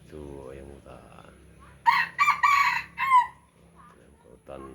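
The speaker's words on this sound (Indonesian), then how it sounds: "Itu ayam hutan." A jungle fowl rooster in a coop crows once, loud and close, a strained multi-part call lasting about a second and a half, with quieter talk and background sounds before and after.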